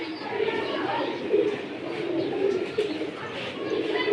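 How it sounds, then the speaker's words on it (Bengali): Pigeons coo in a low, soft, repeated rhythm at a pigeon seller's, steady and close with a light background murmur throughout. "এটা হচ্ছে আপনার দুই দশকের একটা কবুতর মাসাল্লাহ খুবই সুন্দর"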